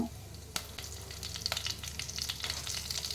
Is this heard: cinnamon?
yes